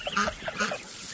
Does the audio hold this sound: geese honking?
yes